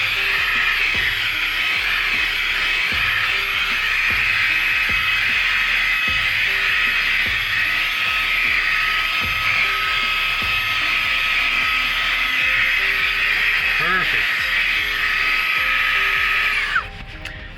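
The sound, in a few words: Fanttik Slim V8 Apex car vacuum on high mode cleaning floor mat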